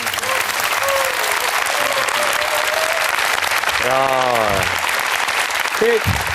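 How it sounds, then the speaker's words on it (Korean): A talk-concert audience gives a warm, dense round of applause for an architect mentor, continuous and loud throughout, with a host's voice briefly cutting through. "여러분 뜨거운 박수 부탁드리겠습니다"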